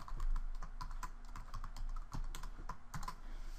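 Someone types steadily on a computer keyboard, with close, brisk key clicks in an uneven rhythm and no talking.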